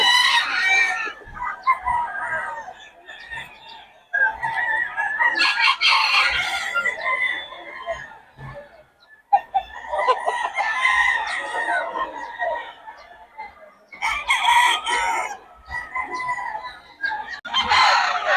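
Roosters crow repeatedly, loud and close, with clucking hens between the calls and no talking.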